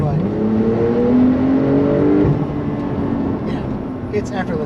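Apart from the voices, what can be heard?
2021 Porsche 911 Turbo S Cabriolet accelerating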